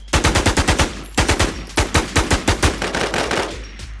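Rapid automatic gunfire from the video game Infestation, fired in three or four quick bursts of sharp, loud shots with short gaps between them, with no talking.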